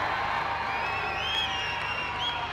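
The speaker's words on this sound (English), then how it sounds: "The crowd will roar." Stadium crowd at a national men's javelin final, a steady, dense roar of many voices sustained throughout, loud and broad with faint whoops rising over the din.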